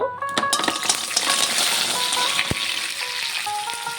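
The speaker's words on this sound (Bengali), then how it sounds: "তেলটি গরম হয়ে গেছে, আমি কাঁকড়াটাকে দিয়ে দেব।" Crab pieces hit hot oil in a pan with a sudden loud sizzle that settles into steady crackling frying, punctuated by a few metallic clinks and taps of a utensil.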